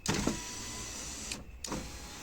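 Electric power window motor on a Renault Megane 2 running after repair, a steady close whir with a brief dip in the middle before the motor hum resumes.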